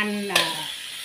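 Vegetables including gourd and carrot stir-fry in a pan for a sweet and sour dish, giving a brief loud burst of sizzling as they are tossed, after a voice trails off.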